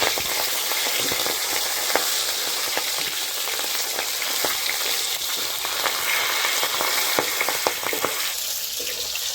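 Boal fish fry in hot oil, a continuous loud sizzle with scattered crackles and pops steady throughout, close up, with no talking.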